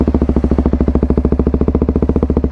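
A Kawasaki Ninja 250 single-cylinder with a Bram aftermarket exhaust runs close by, a steady, even train of deep thumping firing pulses with no clear cranking heard.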